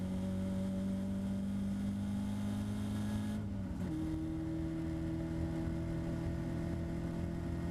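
Caterham sports car pulling hard at full throttle on the Donington Park circuit, a steady close engine drone that briefly dips around a gear change before climbing again, with no talking.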